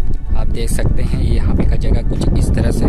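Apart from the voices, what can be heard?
strong wind blowing at Tandula Dam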